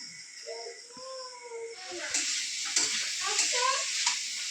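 A curry seasoned with turmeric and chili powder sautés in a pan with a splash of water, hissing and sizzling steadily up close while a person talks over it.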